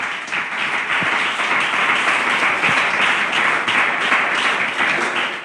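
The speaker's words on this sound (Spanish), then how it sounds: "Le aplaudimos porque es sabiduría" A church congregation claps together during a Sunday pastoral service, a steady, full round of applause that fills the room with no voices over it.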